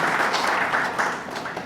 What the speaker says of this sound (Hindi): S3S के लिए जोरदार तालियां